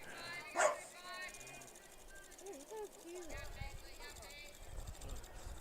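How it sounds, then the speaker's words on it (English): A French Bulldog barking in quick yappy bursts at a distance during a college softball game, mixed with people talking and background noise. "We got a French Bulldog off to our left over here. That's the barking you're hearing."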